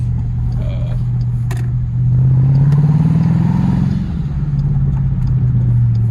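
An SRT Jeep drives along with a low engine drone that swells into a stronger, rising pull as it accelerates midway, then settles back to a steady cruising rumble.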